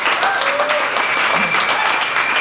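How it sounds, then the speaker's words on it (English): Audience at a St. Louis event applauding, a dense, steady round of clapping close and loud throughout, with faint voices mixed in. "let's give another round of applause"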